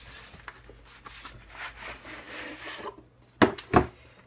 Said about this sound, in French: On va déballer tout ça.